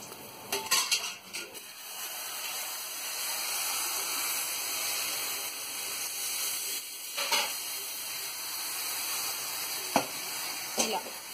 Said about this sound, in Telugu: ఇలా వేగిన తర్వాత కొద్దిగా నీరు పోసుకోవాలి